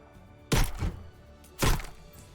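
Simple Sledge sledgehammer pickaxe swung in Fortnite: two heavy, close thunking strikes about a second apart, each a loud impact with a brief rumbling tail, no talking.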